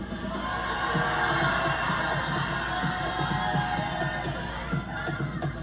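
Cheering and yelling from a pageant audience for a semifinalist fill the room as a steady, dense roar, with scattered shouts over a constant hum.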